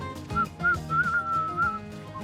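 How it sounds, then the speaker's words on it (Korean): A woman whistles a bright, wavering tune in several short phrases, with one long held note in the middle, while hiking in the mountains, over faint outdoor background noise. "산속의 정막을 깨는 휘파람을 불며 등산을 하고 있는 한 여성"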